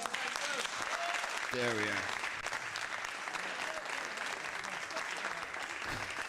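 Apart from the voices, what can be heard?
recorded applause, clapping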